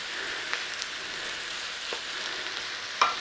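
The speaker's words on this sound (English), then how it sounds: "put your chickens in and fry until brown" Chicken pieces frying with plenty of onion in a pan for an 18th-century curry, a steady close sizzle with a few soft clicks of utensils against the pan.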